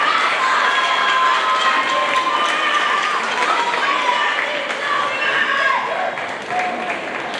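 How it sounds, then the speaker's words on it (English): An audience at a sixth-grade spring band concert fills the space with continuous applause and cheering, a dense, steady wash of clapping and voices that fades slightly at the end. "can we give a big thank you round of applause to your parents for supporting you"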